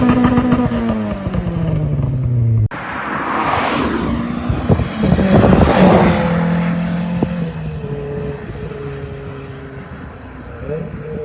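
A 2-litre naturally aspirated car engine, standard apart from a resonator delete, revs loudly and close by, climbing and falling in pitch in a few sharp bursts before settling back to a steady drone.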